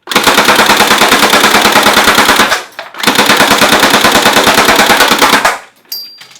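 Two long, loud bursts of rapid full-auto fire from a Tokyo Marui AA-12 airsoft shotgun with drum magazine, each a fast, even stream of shots lasting a couple of seconds, separated by a brief pause.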